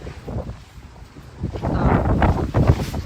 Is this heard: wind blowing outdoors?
yes